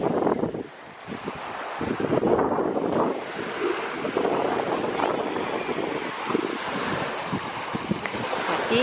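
Sea waves wash onto a beach, a loud, continuous roar of surf close by with heavy wind rumble on the microphone and no one speaking.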